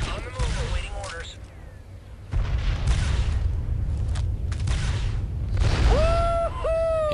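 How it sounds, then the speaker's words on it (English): An explosion in the Star Wars Republic Commando video game gives a booming blast, followed by sustained rumbling, crackling bursts, with game voices speaking before and after it. "my scanners show an explosion"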